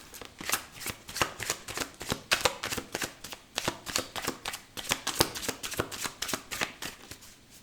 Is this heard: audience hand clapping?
no